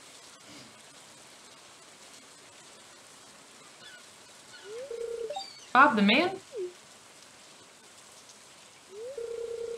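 Steady rain hisses softly in the farming game Stardew Valley, a constant wash of patter under a voice and bright chiming dialogue tones.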